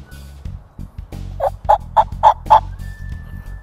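A mouth call imitates a turkey hen yelp with a run of five distinct, evenly spaced yelps, loud and close, each with a sharp start and stop, set between quieter low mouth sounds.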